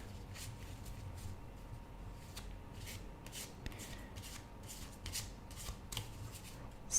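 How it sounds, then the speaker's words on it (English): Tarot cards being shuffled and handled during a quiet tarot reading, giving soft repeated riffling and light flicking taps over a low hum, close and gentle, with a slightly louder shuffle at the end. "Let's pick the cards."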